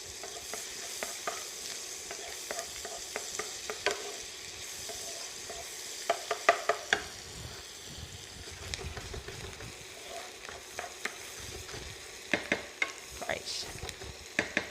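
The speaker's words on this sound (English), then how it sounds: "we're just going to fry the onions until they're soft and translucent" Onions frying in butter for mushroom risotto, a soft steady sizzle with frequent scrapes and clicks of a spoon stirring the pan, faint and close, with no talking.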